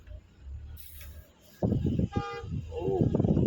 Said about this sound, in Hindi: बहुत ट्रैफिक, बहुत।